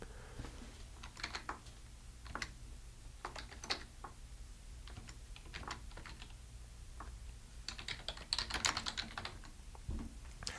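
Quiet, close typing on a computer keyboard, with irregular bursts of crisp key clicks separated by brief pauses over a faint steady room hum.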